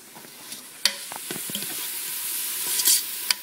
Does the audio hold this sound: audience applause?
no